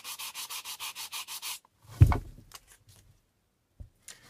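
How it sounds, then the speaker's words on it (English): Rhythmic strokes of sandpaper hand sanding a wooden bowl rub back and forth about nine times, brisk and even, followed by a thump and a few quiet scrapes. "hand sanding seems ever such a boring thing to do"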